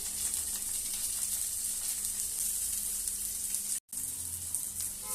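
Onions fry in oil in a kadai with a steady, even sizzling hiss that runs throughout, broken by one very brief dropout near the end.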